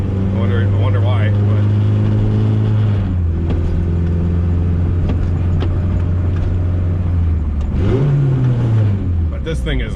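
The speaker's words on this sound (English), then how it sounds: "this thing is rev happy like a mother trucker" Turbocharged Ford EF hatch engine revving loudly close by, a deep sustained roar that falls off after a few seconds, idles with rough rumble, then blips up and down again near the end.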